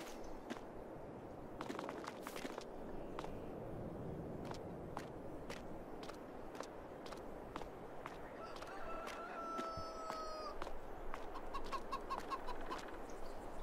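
Chickens cluck around a henhouse in the Farming Simulator 22 video game, with scattered bird calls, footstep-like scuffs and a brief crow-like call, all fairly quiet and continuous.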